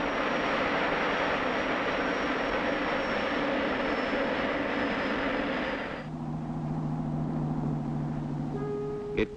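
A Pan American jet aircraft engine roars steadily and loudly, then the tone shifts partway through to a lower, droning hum with steady tonal whine.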